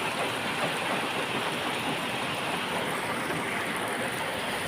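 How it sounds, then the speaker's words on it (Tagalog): Heavy rain and flood water in Valenzuela City make a steady, dense hiss of downpour and rushing water, loud and unbroken throughout. "Baha na guys, baha na, baha na."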